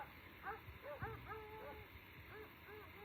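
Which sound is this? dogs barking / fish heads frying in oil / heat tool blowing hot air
dogs barking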